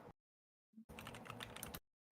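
Keys clatter on a computer keyboard during an online tabletop role-playing session, a quick burst of rapid clicks for about a second, bracketed by short gaps of silence.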